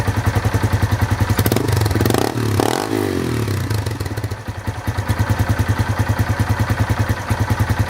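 An engine idles close by with a steady, throbbing pulse of rapid firing beats, briefly broken midway by a rougher clattering swell before the even idle settles back in.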